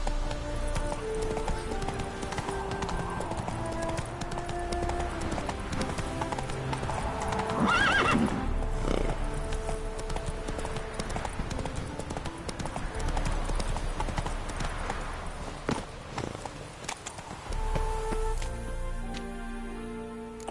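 Hooves clip-clop steadily as a horse gallops in the video game The Witcher 3, with a whinny midway and game music and ambience beneath.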